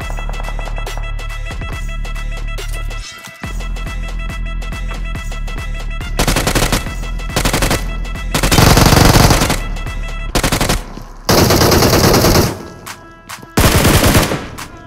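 Machine gun fire in a battle royale video game, with repeated loud bursts of automatic fire coming in separate clusters, some far and some close, over a steady game background.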